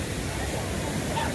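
Big ocean waves break on a sunny beach, a loud continuous rushing wash of surf filling the short stretch, with faint crowd murmur beneath.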